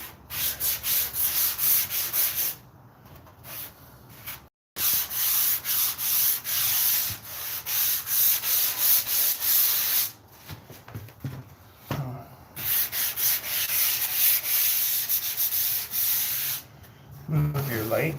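Wood is sanded by hand with sandpaper in rhythmic back-and-forth rubbing strokes, close and raspy, pausing briefly between bursts of passes.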